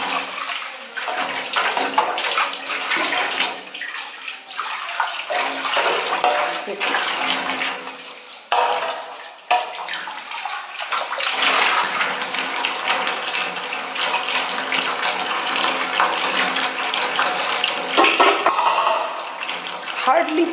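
Philips centrifugal juicer parts being rinsed under a running tap, a steady hiss of water splashing into a sink for the whole stretch, with brief breaks and shifts as the parts are moved under the stream.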